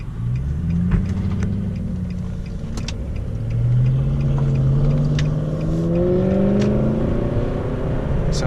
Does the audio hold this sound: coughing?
no